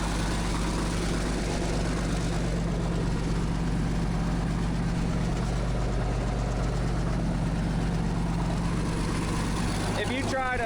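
A Caterpillar D6 bulldozer engine runs steadily with a loud, low, continuous diesel drone that does not let up.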